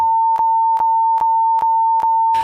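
A loud, steady high-pitched censor beep holds for over two seconds, broken by brief clicks at regular intervals, with no other sound.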